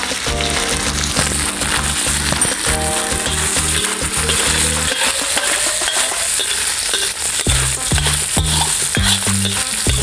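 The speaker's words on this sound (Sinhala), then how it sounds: "මුලින්ම chicken ටික දාගන්නවා මම. මොකද මේක fry කරන්න ඕනේ" Chicken frying in oil in a pan, a loud dense sizzle that runs throughout, layered with rhythmic mechanical clicking and whirring from a nearby appliance.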